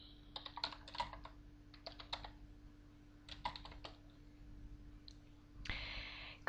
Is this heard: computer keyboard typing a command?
yes